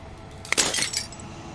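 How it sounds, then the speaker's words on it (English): Glass shatters in Slay the Princess. A single bright, crisp breaking crash rings out, followed by a brief tinkling spray of fragments before it fades to quiet. "As the final fragment of glass shatters"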